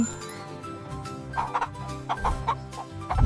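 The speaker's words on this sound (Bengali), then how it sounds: "এই পাখিটির নাম মুরগি in English it is a হ্যান" A hen clucks in short repeated bursts, fairly close and clear, with no other sounds competing.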